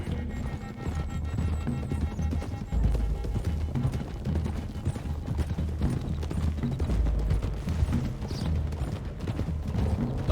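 Horse hooves clip-clop steadily as a group rides along a hill road in Red Dead Redemption 2, the rhythmic beats sitting under a busy bed of music and ambience.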